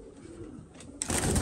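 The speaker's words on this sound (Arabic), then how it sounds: "حبايبنا هاي الطواير المخاليف" Iraqi pigeons cooing softly inside a loft, low throaty coos close by, with a louder rustling burst near the end.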